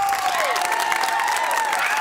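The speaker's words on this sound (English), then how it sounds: "Let's give her a round of applause." At a school spring concert, an audience breaks into applause with some cheering, a full, continuous crowd clap with faint voices rising through it, steady for about two seconds.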